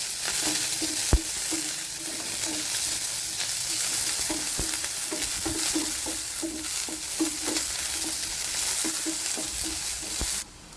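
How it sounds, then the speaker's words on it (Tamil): Onions and curry leaves sauté in a pan for okra poriyal, giving a steady close sizzle with frequent scraping stir strokes throughout, and no one speaks. "இப்போ வெங்காயம் நல்லா வதங்கிருச்சு."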